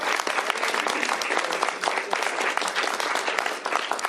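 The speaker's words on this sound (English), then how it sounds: "please give each of them a big round of applause as we sign the bill" Warm, dense applause from an assembled crowd at a governor's bill signing, many hands clapping closely and continuously without a break.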